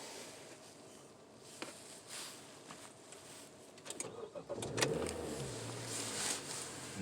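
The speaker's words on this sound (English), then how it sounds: "That was a cold start on the 2020 Honda CR-V" A 2020 Honda CR-V is cold-started: a few faint clicks and a key jangle, then the starter cranks and the engine catches around midway, settling into a steady idle rumble.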